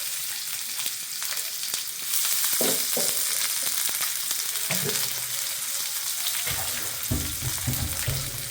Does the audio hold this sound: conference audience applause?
no